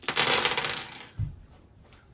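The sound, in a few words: heavy custom plastic board game dice rolling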